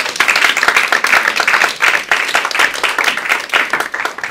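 A church congregation bursts into lively applause, many hands clapping fast and close together in a dense, sustained wash that swells and dips slightly over a few seconds.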